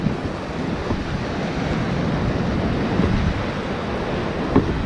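Ocean surf at Pantai Kedung Celeng, a beach in south Malang, rolls in as a steady wash of breaking waves mixed with wind buffeting the microphone, continuous and fairly loud with no one talking.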